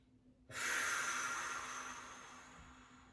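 A single deep breath drawn while lying down during a gentle floor stretch, a long, soft airy rush that starts abruptly and slowly fades, close and quiet with no talking.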